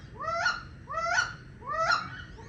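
Several wood ducks roosting on a dark evening give three squealing, upward-sliding calls at a steady pace, fairly close and clear, with no voices over them.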